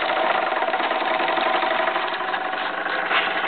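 A Jensen 75 toy steam engine runs steadily, driving a small homemade Baker fan built from Capsela parts, with a constant close mechanical whir and chatter that holds at an even level throughout, with no talk.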